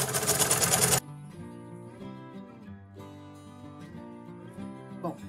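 Sewing machine stitching a plaid quilt, a steady mechanical whir that runs continuously at close range after a brief loud burst at the start, with no talking.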